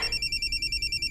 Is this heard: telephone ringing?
yes